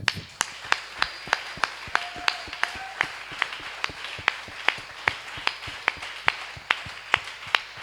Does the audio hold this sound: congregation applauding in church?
yes